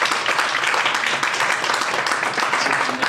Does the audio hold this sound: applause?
yes